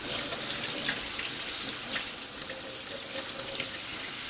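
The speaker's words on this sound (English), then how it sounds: "just run it under water like that, and it's really like pretty clean." Running tap water pours steadily over dandelion roots being rinsed clean, a continuous close splash and hiss from start to finish with no voices.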